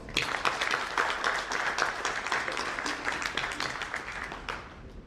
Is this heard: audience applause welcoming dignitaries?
yes